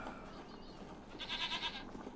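An ibex bleating in the My Island video game, a single faint wavering bleat of about half a second over a steady ambient background hiss.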